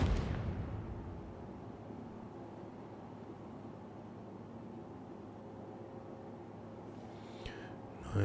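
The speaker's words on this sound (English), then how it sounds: "Nice firework." A firework in the space game Star Citizen bursts with a loud opening boom, then fades into a long, low rumbling tail. Near the end come a couple of sharp crackles and a second thump.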